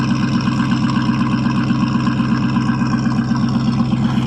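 A 1979 Chevrolet C10 Bonanza Big 10 pickup engine idles steadily after a cold start, a loud, continuous low rumble with an even lumpy pulse throughout.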